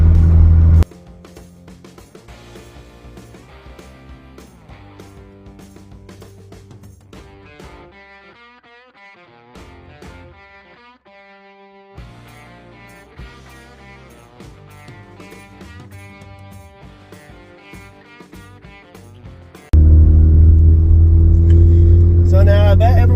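Music plays for most of the stretch, then a cheap Honda Civic engine suddenly takes over loud and close near the end, revving up hard during a fuel test.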